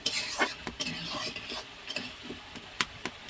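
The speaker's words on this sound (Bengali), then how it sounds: "আমি আলুটা সরিষার তেলে ভাজতেছি" Potatoes sizzle in mustard oil for a duck curry while a spatula scrapes and knocks against the pan in irregular bursts, close and moderately loud.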